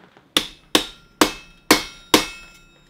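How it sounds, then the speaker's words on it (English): Five sharp, evenly spaced blows of a rawhide mallet striking steel Viking helmet parts on an anvil, each a close, loud impact with a short ringing decay, no talk. "I'm just going to drop them down on the anvil, hit them with this rawhide mallet just to make them straight."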